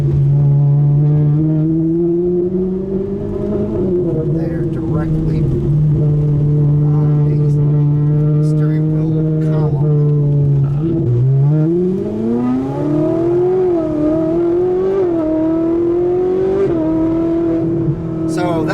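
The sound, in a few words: Ferrari 458 engine accelerating at quarter throttle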